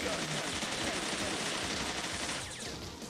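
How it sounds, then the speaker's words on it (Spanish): Rapid machine gun fire in the action video game Bot Vice, a steady, dense rattle of quick shots that runs unbroken and close, easing slightly in volume near the end. "Machine gun."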